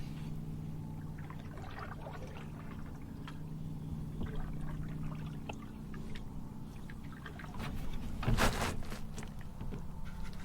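Quiet canoe paddling on a calm lake: soft rhythmic dips and trickles over a low steady hum, with a brief louder splash near the end.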